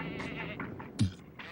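A goat bleats once, fairly close and clear, a short wavering call standing out above a low background murmur.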